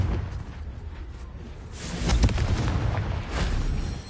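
A Confringo blast spell in Hogwarts Legacy on PS5, a rumbling explosive burst swelling and echoing over a low roar, followed by a second softer boom.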